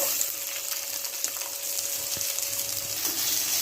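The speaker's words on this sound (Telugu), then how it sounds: "ఇప్పుడు బాగా ఫ్రై చేసుకోండి" Sliced medium onions and curry leaves fry hard in hot oil for a tempering, giving a steady close crackling sizzle throughout with a faint thin tone beneath it.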